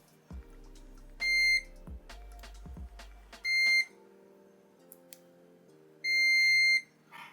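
Continuity beeps from a B-Side ZT5BQ clamp meter, three separate sustained electronic tones, each about half a second long, sounding loud and close with faint handling clicks between them.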